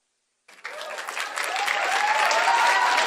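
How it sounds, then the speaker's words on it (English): After the Pledge of Allegiance at a Students of Distinction National Pinning Ceremony in the Bahamas, a standing audience breaks into applause that starts abruptly and swells, with a few faint voices rising beneath it. "That is deserving of an applause."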